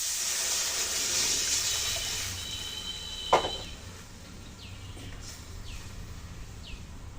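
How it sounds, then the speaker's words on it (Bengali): Water pours into a cooking pot in a home kitchen during preparation of a puti fish meal. A soft, faint splashing rush in the first couple of seconds gives way to quieter background sounds. "দিচ্ছি জল।"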